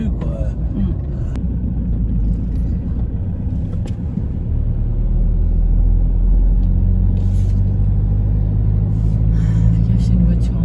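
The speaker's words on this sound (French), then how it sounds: "C'est une voiture en face." A car driving along a town road in Bulgaria, with a steady, close engine and road rumble throughout, rising a little in the second half, while people talk over it.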